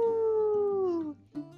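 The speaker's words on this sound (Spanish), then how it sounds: "Este es el lobo ártico." An arctic wolf howls once, a long, loud, clear tone that slides slowly downward for about a second before breaking off, followed by a short second rising yelp.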